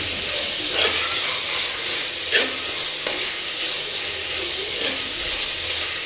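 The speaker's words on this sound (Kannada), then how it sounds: "ಈರುಳ್ಳಿ ಸ್ವಲ್ಪ ಫ್ರೈ ಆಗಲಿ." Onions frying in a pan while cooking spinach masala rice, giving a steady sizzle and hiss with occasional soft stirring scrapes, close and continuous, with no talking.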